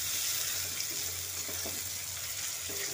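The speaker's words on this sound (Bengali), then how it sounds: "তারপরে পেঁয়াজগুলো একটু ভালো করে লাল লাল করে ভেজে নেব।" Chopped onions fry in a pan for a restaurant-style soybean curry, giving a steady, broad sizzling hiss throughout with no talk.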